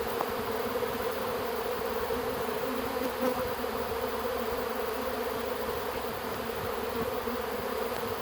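A honey bee swarm fanning and buzzing roughly eight feet away outdoors, a dense, steady drone that holds evenly throughout without pause.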